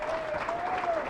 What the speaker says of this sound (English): So a huge round of applause for Roar.